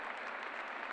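Applause from the crowd at the Saut Hermès 2019 show jumping event in Paris, a steady wash of clapping from a large audience, moderately distant and unbroken for the whole second.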